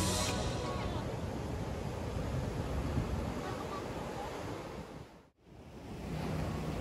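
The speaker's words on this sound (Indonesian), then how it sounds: "Jadi ombaknya gede banget dan kita nggak dibolehin untuk turun" Large surf on the Indian Ocean coast at Ujung Genteng's Karang Gantungan beach at high tide, a steady loud roar of breaking waves with wind buffeting the microphone and a brief dropout near the end.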